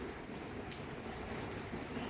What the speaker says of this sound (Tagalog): Umuulan naman to